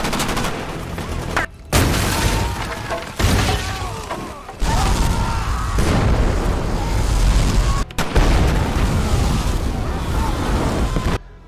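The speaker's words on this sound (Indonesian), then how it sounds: "menginstruksi Nick untuk meledakkan bom yang telah mereka" Heavy bomb blasts and gunfire in an action film boom in loud, dense bursts broken by brief silent cuts, with a voice narrating over the action.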